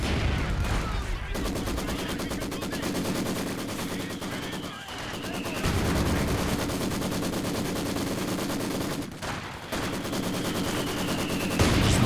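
Machine gun fire and artillery barrage in Company of Heroes 2, dense continuous automatic bursts with heavy booming impacts, loud and sustained, occasional brief gaps and faint commentary underneath.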